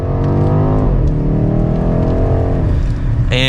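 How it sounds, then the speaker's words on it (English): A 2023 BMW X6 M Competition SUV accelerates hard from the driver's seat, its engine loud and close with steadily rising revs, a gear change dropping the pitch, then climbing again before another shift near the end. "as we switch over to the POV angle, you can see what it's like to be behind the wheel for this X6, and another acceleration"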